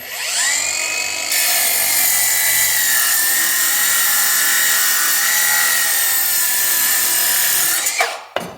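A VEVOR 20 volt cordless reciprocating saw cuts through wood with a loud, close, buzzing whine that drops in pitch as it lugs under pressure, running steadily for several seconds before stopping abruptly.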